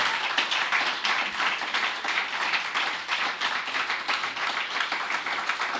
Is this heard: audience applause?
yes